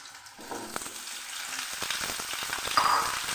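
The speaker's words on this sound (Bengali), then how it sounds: "তখন আমি এঁচোড়টাকে লাল করে ভেজে নিচ্ছি" Young jackfruit fries in hot mustard oil with turmeric and salt: a crackling sizzle builds from quiet to louder over a few seconds, dotted with small pops and a light clink.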